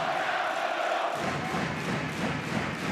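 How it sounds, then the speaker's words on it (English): Crowd in an 8,000-seat arena at a France versus Hungary handball match at EHF EURO 2012, mostly Hungarian supporters roaring and chanting, swelling into a loud raucous din with thumping beats. "And the crowd making a raucous noise in the background."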